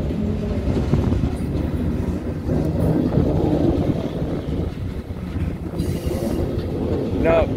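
A BNSF SD70MAC locomotive in Hobson Yard, Lincoln, Nebraska, rumbles with a steady low-pitched drone of rolling rail cars and wheel noise, continuous and fairly close, with wind buffeting the microphone.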